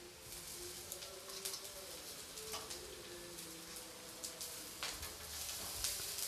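Ginger and garlic fry in a pan for a stuffed cabbage paratha, giving a soft continuous sizzle with faint crackles and a few small clicks of utensils, at low, close-up level.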